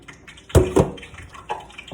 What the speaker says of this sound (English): drain the water off as much as you can